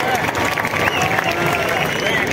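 An audience breaks into loud, sustained applause, dense clapping with some crowd noise that runs evenly through the whole stretch.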